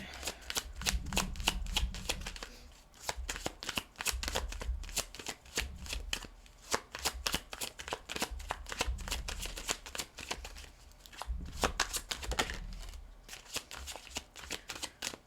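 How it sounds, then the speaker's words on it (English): Tarot cards being shuffled by hand, a steady run of quick, crisp riffling bursts with brief pauses between rounds, close and clear with no talking. "Let's see. Let's begin."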